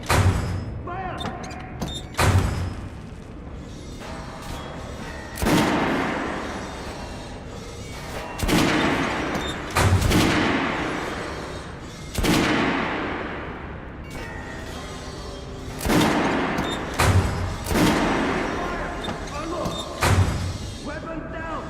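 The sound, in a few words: gunfire from the video game Metro Redux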